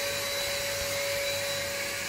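An Ambiano cordless vacuum cleaner from Aldi runs continuously, a loud, steady motor whine with a constant high-pitched tone and airflow hiss, close to the listener and without any speech.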